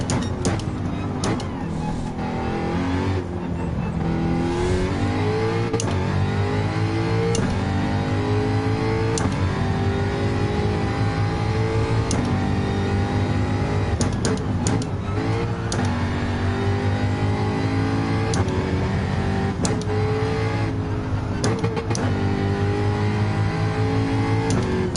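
A race car engine in Gran Turismo 7 howls through repeated gear changes, revs rising and dropping in steady cycles as the gearbox shifts up and down, loud and continuous throughout.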